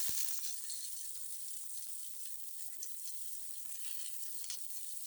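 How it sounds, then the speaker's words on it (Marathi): Onion and green chili sauté in a little oil in a pan, making a continuous fine sizzle with occasional soft spoon taps and stirring, heard close and fairly quiet with no voices. "कांदा आणि हिरवी मिरची एकत्र थोडं कलसून घ्यायचं आहे."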